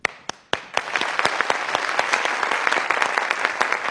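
Studio audience applause on a Persian TV comedy show, a few sharp separate claps at first that swell into steady, dense clapping from a crowd, loud and close with no talking.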